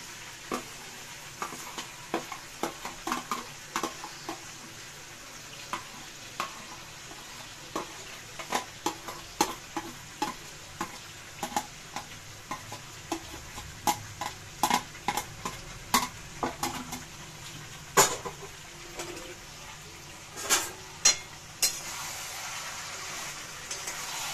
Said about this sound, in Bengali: এবারে আমি এই যে আলুটা আর গোবিন্দভোগ চালটা যে ভেজে রেখেছি, এটা আবার আমি মিশিয়ে দিচ্ছি।